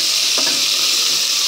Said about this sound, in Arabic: شايفين صوت الفشة؟